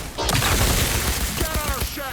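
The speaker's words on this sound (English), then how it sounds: "Grenade!" Grenade blast and gunfire in the game Cyberpunk 2077 Phantom Liberty, a dense continuous barrage of booms and rapid shots that stays loud throughout, with a voice shouting over the fight.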